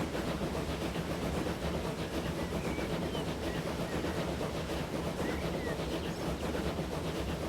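A locomotive in the Transport Fever 2 game rolls along at steady speed, a continuous rumbling drone with faint rhythmic clatter, heard alone without talk.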